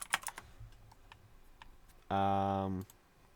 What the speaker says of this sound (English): I'm just gonna type in pro vocals.